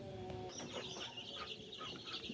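Sonali chickens clucking on a small farm, several quiet, short clucks and chirps scattered irregularly over a faint steady background, heard alone with no talking.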